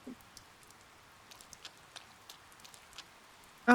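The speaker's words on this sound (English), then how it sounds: "It began raining." Light rain falls in the Persona 5 game, scattered soft drops and patters ticking faintly against a quiet background, with a brief sharper sound right at the end.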